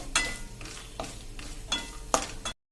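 Cashews and almonds roast in ghee in a pan over a medium flame, with a soft steady sizzle and a spoon scraping and stirring at regular intervals, fairly quiet and close.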